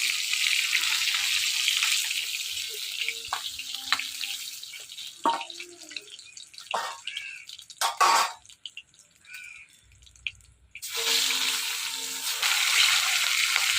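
Hilsa fish fries lightly in oil, a bright hissing sizzle at the start that gives way to utensil clinks and scraping, then the sizzle returns strongly at the end.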